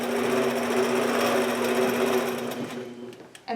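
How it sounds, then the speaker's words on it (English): A sewing machine stitches a quilt during ruler work, running at a steady continuous hum close up before it slows and stops near the end. "And so now when you're quilting it, when you're doing your next line of stitching"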